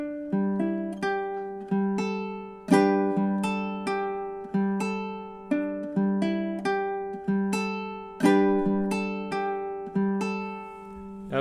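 Plucked ukulele fingerstyle melody, measures one and two played through twice, a steady sequence of ringing picked notes heard up close and alone.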